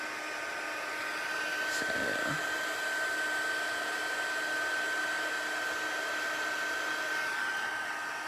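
A heat gun runs as it heats up and blows hot air at a card, giving a loud, steady whooshing roar with a thin high whine that holds throughout. A voice speaks once, briefly, early on.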